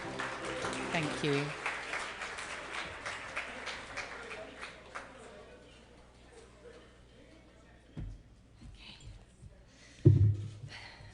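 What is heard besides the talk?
audience applause at awards ceremony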